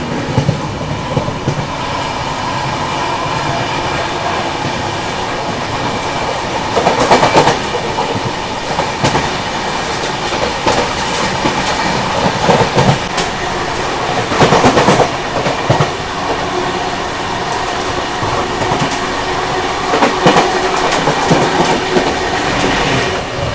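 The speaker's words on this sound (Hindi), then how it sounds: "ये रे भाई लूप पर प्रयागराज एक्सप्रेस।" The Prayagraj Humsafar Express, running from New Delhi to Prayagraj, rolls along the rails with a loud, steady rumble, rhythmic clickety-clack from the wheels, and occasional rattling bursts.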